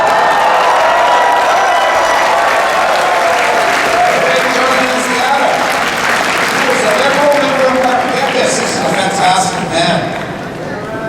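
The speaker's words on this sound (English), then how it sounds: "Give John a round of applause." A crowd applauds loudly and steadily at a political rally at the Toronto Congress Centre, with dense clapping and some cheering throughout, tapering slightly near the end.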